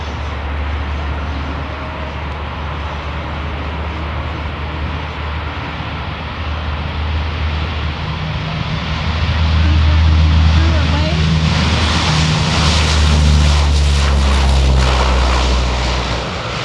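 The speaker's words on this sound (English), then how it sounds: "C-130 world, that is known as a max effect takeoff." A US Coast Guard C-130H Hercules turboprop from Sacramento, California, roars through a maximum-effort takeoff, a loud steady engine drone that swells further midway, with propeller buzz and low rumble throughout.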